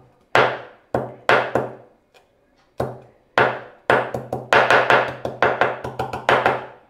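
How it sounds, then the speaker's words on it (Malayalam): A small piece of ginger is crushed with repeated sharp pounding strikes, a few spaced hits at first, then a faster irregular run of knocks, close and clear with no talking. "ഒരു ചെറിയൊരു കഷ്ണം ഇഞ്ചി അതിനെ ഒന്ന് ചതച്ചെടുക്കും."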